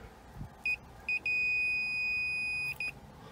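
An ohmmeter's continuity beeper sounds while probing a fan wire on a Mercedes W124: two short beeps, then one long sustained tone, followed by a final short beep, clear and close.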